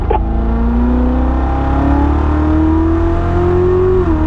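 A car engine pulls hard after an upshift into fourth gear on a track, its tone rising smoothly and loudly for several seconds before easing off near the end.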